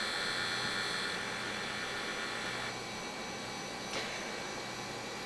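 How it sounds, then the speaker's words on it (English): Hard drive spinning inside a Dell Optiplex GX1 computer, a steady loud whirring hum with a constant high whine and slight seeks, continuous and close with no talk. "Is that the optical drive or is that the hard drive? That is the hard drive."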